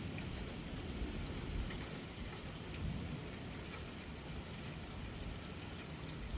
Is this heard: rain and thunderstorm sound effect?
yes